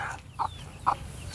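A hen kept with her chicks in a village yard clucks three times, short, evenly spaced calls standing out over a low rural background.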